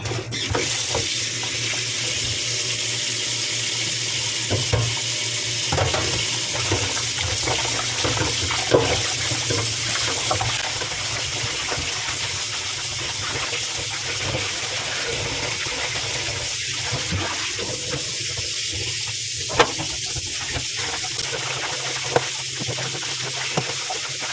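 Pig ears being washed in water, with steady running and splashing water from a tap or sink filling the scene throughout, no talking.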